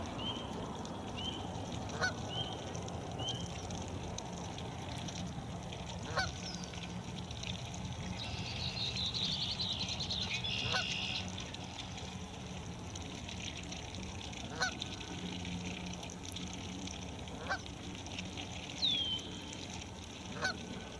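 A flock of ducks out on a lake, with faint scattered quacks and honks drifting over a constant outdoor hiss and a few soft splashes of water, fairly distant.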